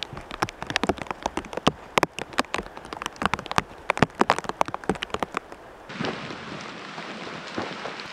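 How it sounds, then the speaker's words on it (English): Heavy storm rain in the High Sierra's John Muir Wilderness beats down as a rapid run of sharp, close drop impacts, then shifts abruptly into a smoother, steadier wash for the last couple of seconds. No one speaks. "it's raining a lot again"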